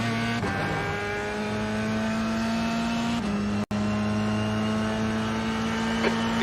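High-downforce race car engine in a racing video game, a loud, sustained high-pitched whine held at steady revs with a brief gear-shift dip partway through, alone without talk.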